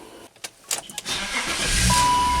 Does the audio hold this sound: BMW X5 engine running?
yes